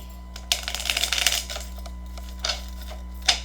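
Crisp papery riffling of cards being shuffled, a flurry of fast ticks followed by a few separate sharp snaps, close and moderately loud.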